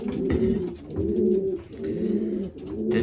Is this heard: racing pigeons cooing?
yes